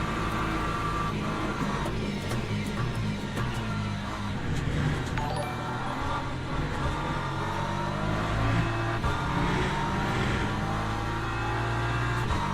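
Race car engines in the Le Mans Ultimate sim, with an LMP3 prototype among traffic, roar steadily and loudly throughout, rising and falling as the cars rev and pass one another.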